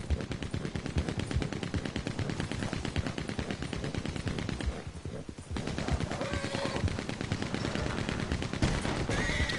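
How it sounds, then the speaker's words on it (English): Rapid machine gun fire in the video game Red Dead Online rattles on almost continuously in dense, loud bursts, with a brief dip in the middle before the shooting resumes. "I hear a machine gun."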